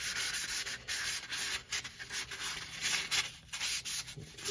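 Sandpaper rubbed back and forth across a rubber typewriter platen, a quiet close-up scratchy hiss repeating in uneven strokes.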